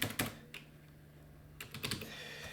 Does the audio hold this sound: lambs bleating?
no